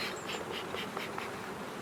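Honeybees buzz close by at hive frames, a drone among them, with a steady layered hum that swells and fades in short pulses as the insects move past; no voices.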